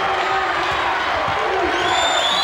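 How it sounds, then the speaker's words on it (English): Arena crowd cheering during a 1995 Indiana versus Bowling Green college basketball championship game, a loud continuous roar with whoops rising from the stands. "that's what this crowd is cheering for now"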